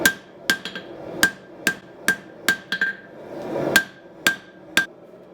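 A hammer rings on hot Damascus steel while forging a blade and its bevels, about a dozen sharp metallic strikes at a fairly even, unhurried pace with light bounces between, close and loud.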